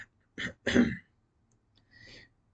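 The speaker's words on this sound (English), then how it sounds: "I have to take little coughs because I can't do like big coughs" A few small, throaty coughs close by, held back to protect abdominal stitches: two quick ones together, a pause, then a softer one, with quiet in between.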